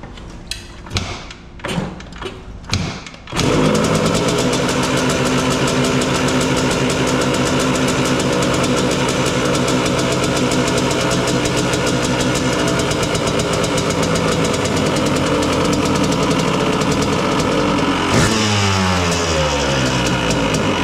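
A Yamaha DT 175 motorcycle engine, freshly carburetor-tuned, kicks over a few times and then fires, idling loud and steady up close before one brief rev near the end.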